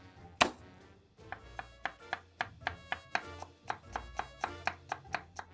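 A knife chops garlic cloves and shallot on a board: a loud single thunk, then a steady run of about a dozen crisp, evenly spaced chops, close and alone.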